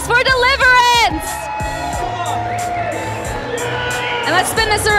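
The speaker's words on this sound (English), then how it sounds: "Let's get a big round of applause for Deliverance" A loud crowd cheers and whoops with scattered shouts, voices overlapping in a lively, close-up roar of celebration.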